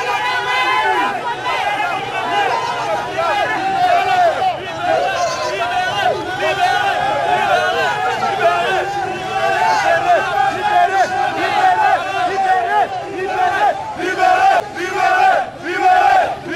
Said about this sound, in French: Dans la foule, des cris rythmés et des musiques religieuses par intermittence